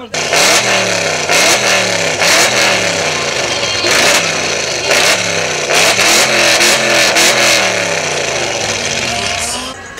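Tuned Audi R8 with modified exhaust revving hard and loud, repeated sharp throttle blips rising and falling over a steady engine roar, close by, with some faint voices in the background.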